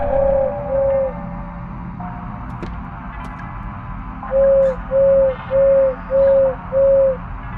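A cute bell owl from a survival horror video game hoots in soft, clear tones: two early hoots, a quiet stretch, then five evenly spaced hoots in a steady rhythm over a faint ambient background.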